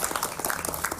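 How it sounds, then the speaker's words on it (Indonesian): A brief burst of studio audience applause on a Ramadan television program: dense, even clapping lasting about a second, with no talk over it. "Tepuk tangan dulu dong untuk Abinaya."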